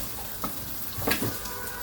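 Butter sizzling in a pan with rice, a soft steady frying hiss with a few brief stirring scrapes, fairly quiet and close.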